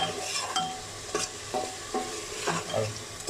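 Spice paste fries in a pan for a chicken gizzard and liver curry, with soft, regular stirring scrapes about twice a second over a faint sizzle.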